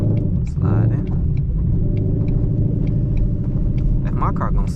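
A Ford Mustang GT drives slowly through snow and slides, its engine a low steady rumble heard from inside the car, with a person talking over it.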